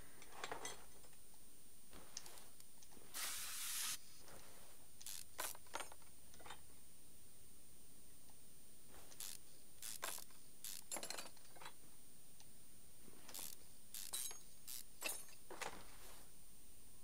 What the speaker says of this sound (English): A lot of spraying for this one.